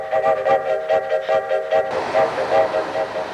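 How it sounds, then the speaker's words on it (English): Computer-programmed air whistles of a train whistle calliope at a Miami Metro Rail station blow a syncopated rhythm of short repeated hoots, fairly loud and close, with no talking. "the air whistles are computer programmed to blow a series of syncopated rhythm patterns for"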